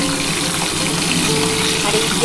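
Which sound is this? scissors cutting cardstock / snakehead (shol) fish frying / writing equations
snakehead (shol) fish frying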